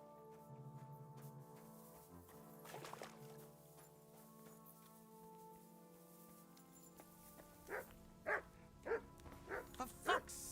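Dog barking in Kingdom Come: Deliverance 2, a run of five or six sharp, fairly close barks in the last few seconds, after quieter game ambience and a few softer sounds.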